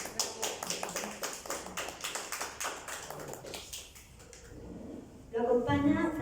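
A small audience at a literary panel claps for a professor, sparse separate claps fading out after a few seconds, followed by a voice speaking.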